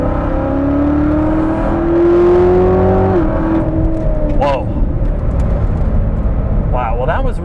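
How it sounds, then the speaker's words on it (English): A Chevy Corvette ZR1 engine revs hard under acceleration, its rising tone climbing steadily for a few seconds and then dropping off into a loud, steady drone from inside the car. "It really makes a racket when you floor it."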